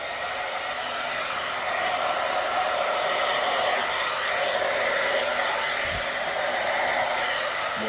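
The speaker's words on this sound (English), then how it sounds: "I'm going to start with the hairdryer." A hairdryer blows a continuous, loud, even stream of air across a dirty bloom resin pour, with a steady whooshing hiss throughout and no speech.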